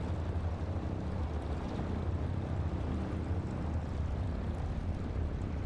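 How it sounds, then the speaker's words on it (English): Low, steady droning rumble of a nine-cylinder AI-14 radial aircraft engine in Microsoft Flight Simulator, fairly quiet and unchanging, with no voices. "See that AI-14 engine spool up with the 9 cylinders."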